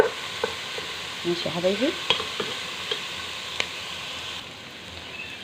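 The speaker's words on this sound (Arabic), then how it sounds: "انا كده نزلت بالبصل تمام كده، يعني بيتكرمل" Chopped onions sizzle and caramelize in a hot pan with a steady crackling fry. Occasional scrapes and taps of stirring break in, and a voice speaks briefly over it.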